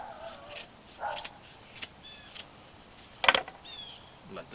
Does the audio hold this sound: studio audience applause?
no